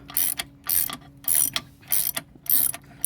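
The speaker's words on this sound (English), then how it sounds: "gonna finish loosening up all the lug nuts" Ratcheting wrench clicking in repeated bursts while loosening the lug nuts on a car wheel, close and fairly loud, with brief pauses between strokes.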